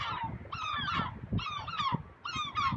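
Gulls crying over the sea at Veules-les-Roses, a few repeated harsh, descending calls in overlapping bursts, fairly close, over a low wind or surf rumble.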